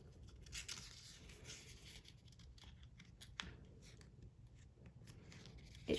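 Origami paper being folded and creased for a Sonobe module, with soft close rustles, scrapes and a sharp crease snap, quiet and alone without talk.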